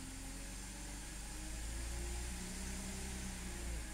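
A BMW Z4 E85 with an M54 engine, after a PCV valve replacement, runs steadily with a mild rise in engine speed and then settles back to a smooth, even idle, heard close and alone with a strong hiss.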